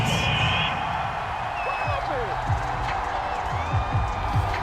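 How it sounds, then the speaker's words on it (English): An NFL stadium crowd at a Texans vs Colts game reacts to a penalty flag on third down with a sustained loud roar of booing and yelling, while a commentator talks over it. "Well, the crowd doesn't like that."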